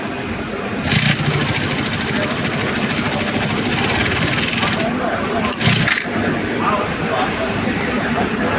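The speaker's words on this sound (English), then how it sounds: "this is approximately 1, 2, 3, 4, 5 layers of a single garment that we're going to stitch with this machine." A Highlead DY 850 industrial sewing machine with a backpack device stitches through five garment layers, making a loud, continuous, close mechanical whir with a short dip and a restart partway through.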